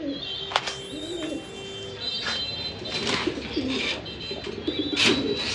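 Red Lahori fancy pigeons, semi-adult birds of an imported bloodline, coo softly in a loft, with repeated low throaty calls and occasional higher chirps close by over a steady background.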